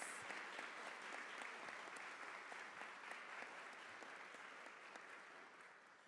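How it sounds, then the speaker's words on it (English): An audience applauds departmental award winners at a university excellence celebration, a broad, even wash of clapping from a large crowd that slowly tapers off. "One more round of applause for all of our departmental award winners."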